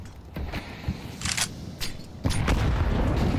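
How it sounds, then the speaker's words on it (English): Grenade blasts and gunshots during a professional Counter-Strike match between OG and Falcons at a major tournament: several sharp bursts and booms scattered over a few seconds, ending in a louder sustained rumble. "Dodging these outer nades."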